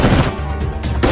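Loud, dense gunfire from a film shootout between police and gangsters: rapid overlapping shots and bursts filling the whole moment, close and harsh, with no voices.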